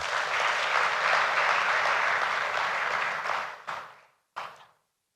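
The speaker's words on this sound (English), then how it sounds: "he deserves a resounding round of applause" Conference audience at CGC's 2023 event applauding the vice president: a sustained, loud wash of many hands clapping that fades after about three and a half seconds, with a short final burst before silence.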